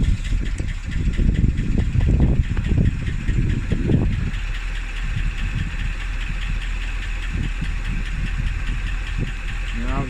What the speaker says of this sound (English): Is there any chance you could just start her up